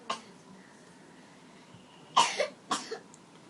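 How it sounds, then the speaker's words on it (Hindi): Two sharp, close coughs come in quick succession after a quiet stretch, from a person at an indoor Hindi spiritual gathering. "खांसी हो गया"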